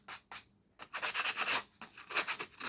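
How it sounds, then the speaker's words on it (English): Sandpaper rubbing over saw-cut edges of a homemade Halloween jump-scare noisemaker prop, heard as close, repeated scratchy strokes in short bursts with brief pauses between them. "just give these a little bit of a sanding just to smooth them off"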